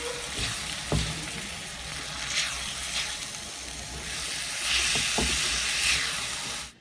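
Minced meat with fresh coriander and chili garlic sauce sizzles and fries in a pan, a continuous hiss with occasional stirring scrapes and taps, close and moderately loud, with no talking.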